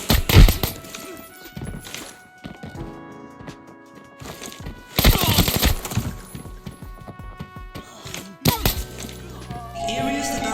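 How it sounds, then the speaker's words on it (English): In the shooter game Arena Breakout, an AK-12 rifle fires in loud, sharp bursts, broken by pauses and mixed with other clanking and ringing game sounds. "let's please your ears with the AK-12"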